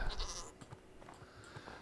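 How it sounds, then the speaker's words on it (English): Goats on a lofty mountain peak in Minecraft bleat faintly in the distance, a few soft, scattered calls against a quiet background. "And we've got some goats."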